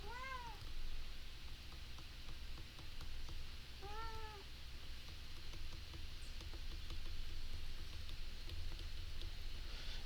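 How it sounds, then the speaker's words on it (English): A cat meows twice, at the start and again about four seconds later, over a steady background hiss with faint patter. "See, the cat's warning you."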